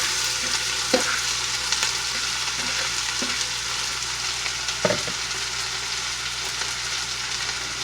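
Onions frying in oil and butter in a hot pan, a steady close sizzle with a few brief clatters and stirs, no talking.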